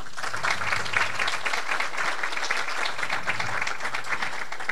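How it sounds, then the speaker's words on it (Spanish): An audience at an academic seminar on slow slip and tectonic tremor claps for the absent event organisers, a steady, dense round of applause from many people sustained throughout, with no speech over it. "que les demos un aplauso"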